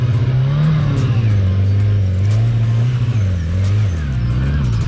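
Stunt motorbike engine loud and close throughout, a steady low drone with rises and falls as the revs surge and sag, briefly dipping as it dies off a little before picking back up.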